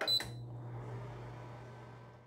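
Kalorik Maxx air fryer oven starts up to air fry bacon: a short bright beep, then a steady low motor and fan hum that runs alone and quietly.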